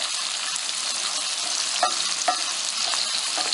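Onions fry in leftover hamburger grease for a country-style hamburger, cabbage and vegetable soup, making a constant, even sizzle with a few light pops and stirring taps.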